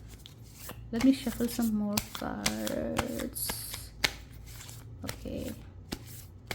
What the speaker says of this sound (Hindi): Let me shuffle some more cards.